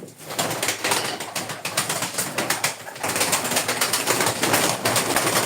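Pigeons coo and shuffle nearby amid a dense, continuous rustle, with occasional wing flutters; no talking.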